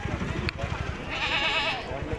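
Goats bleat at a village livestock market, one clear drawn-out bleat rising above a busy crowd of people talking nearby.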